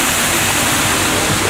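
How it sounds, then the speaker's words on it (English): Waterfall beside a theme park boat ride in a Little Mermaid scene, a dense, constant roar of falling water that fills the whole moment at steady loudness with no voices. "if you look through the waterfall on our left"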